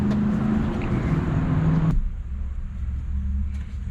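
Low, steady engine rumble from a 1967 Dodge Charger cruising on the road, loud and close throughout, with the tone dropping and smoothing slightly halfway through as the engine settles.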